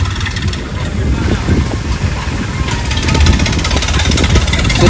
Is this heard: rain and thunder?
no